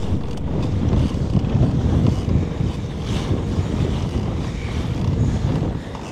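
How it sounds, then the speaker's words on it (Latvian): Strong wind roars steadily across the microphone at a fishing tournament in Babīte, Latvia, a loud, low buffeting rumble with faint water and surf noise beneath. "Tas vējš vēl lielāks paliek"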